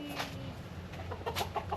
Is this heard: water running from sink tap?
no